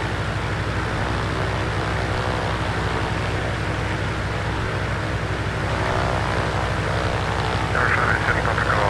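A simulated Cirrus SR22 single-engine propeller plane holds a steady engine run-up before takeoff in a flight simulator game, a constant loud droning hum with no break.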